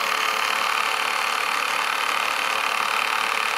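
A Kinyo VHS rewinder winding a tape back, producing a constant, even mechanical whir that stays steady from start to finish.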